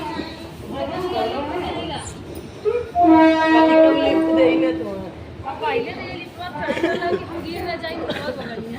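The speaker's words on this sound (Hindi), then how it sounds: "ट्रेन आने लो भैया देखिए" A train arriving at a station, its horn sounding loudly for about two seconds amid rumbling rail cars and busy platform chatter, with people talking nearby throughout.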